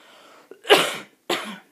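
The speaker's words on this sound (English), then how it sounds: "Excuse me, I got a cough." Two harsh coughs close up, one longer then a shorter one after a short pause, with a small throat sound just before.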